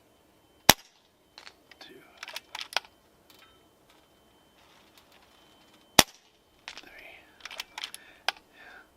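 Air Arms S510XS Ultimate Sporter .25 air rifle firing JTS pellets at 100-yard steel targets, two sharp isolated shots several seconds apart, with quiet talk and small handling clicks between.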